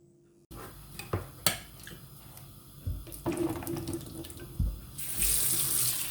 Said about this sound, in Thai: เทถั่วดำออกมาล้างดีๆ